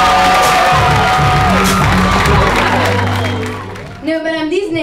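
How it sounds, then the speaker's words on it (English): A comedy club audience at the Ha Ha Cafe breaks into loud, sustained clapping, cheering and whoops, a dense crowd roar that fades, then gives way to a short burst of amplified talk. "Start clapping right now. Start clapping. Start clapping."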